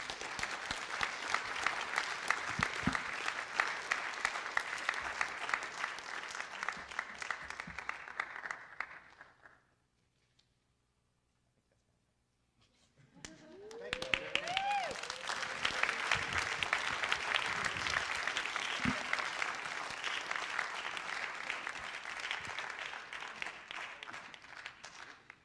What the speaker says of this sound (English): Please, one more round of applause for all of our poets